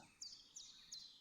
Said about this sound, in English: Can you hear the birds chirping now?